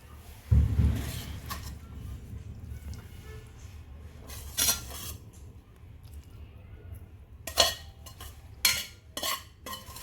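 Veg Manchurian balls being mixed into gravy in a pan, giving a few soft squishy stirs and spoon clinks against the metal, spaced out and close by, with stretches of quiet between.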